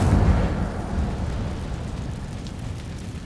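A fire spell cast in the video game Hogwarts Legacy, set in a cave: a loud, low whooshing burst of flame that swells at once and then dies down into a rumbling roar, heard alone.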